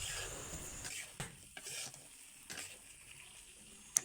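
Potatoes are stirred in a pan while cooking for a hilsa fish curry with potato and eggplant, giving faint, quiet scraping strokes and a few sharp metallic clicks against a soft sizzle.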